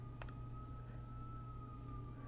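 Faint emergency sirens in the background, one thin steady tone holding under a low hum and room noise, distant and quiet, with no talking.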